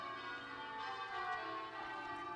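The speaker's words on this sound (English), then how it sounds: "the church bells ringing out the lustiest peals he had ever heard" Church bells ring out in lusty, continuous peals, a dense wash of overlapping tones that is heard faintly, as if from a distance.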